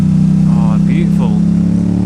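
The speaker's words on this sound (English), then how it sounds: "it's so hard not to rev this bike, man" Motorcycle engine running loud and close with a steady low drone and a slight rise in pitch, heard under a voice.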